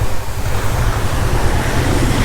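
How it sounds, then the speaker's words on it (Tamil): Small monsoon waterfall at Kalu Waterfall in Maharashtra gives a loud, dense, continuous roar of rushing water, mixed with heavy wind buffeting the microphone. "இங்கே ஒரு குட்டி ஃபால்ஸ் பாயுது"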